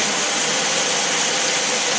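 An engine fitted with a Carter two-barrel carburetor runs steadily under load in gear, giving a loud, continuous broadband roar with no breaks and no voices.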